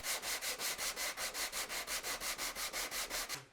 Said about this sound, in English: This can be done with an orbital sander or a sanding block.